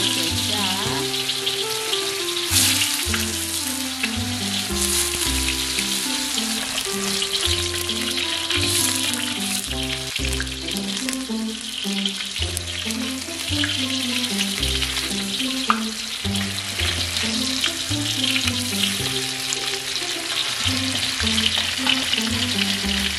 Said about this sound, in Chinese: 現在煎東西啊，放油。